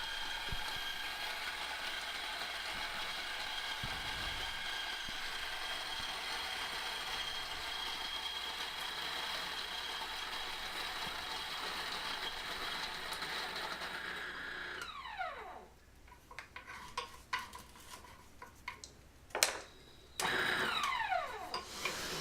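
Coffee beans being ground for an AeroPress, a long steady mechanical whir and rattle of a grinder, close and continuous, then broken by sputtering and clicks as the grinding ends.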